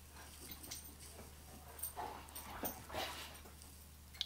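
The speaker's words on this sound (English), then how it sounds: "Sorry about my dogs in the background" Faint, soft dog whimpers and small yips come in brief bursts against a quiet background with a low hum.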